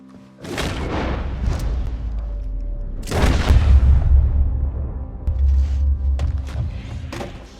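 Gunfire in a video game: two loud booming shots a few seconds apart, each with a heavy low rumble and a long decaying tail, close and dominant with no talking.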